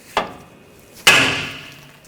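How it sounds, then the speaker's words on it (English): A hammer taps a tie rod end on the steering knuckle of a 2014-2020 Nissan Rogue: two sharp metallic strikes about a second apart, the second louder with a ringing decay, close and alone. "I'm just going to use a hammer and give it a tap."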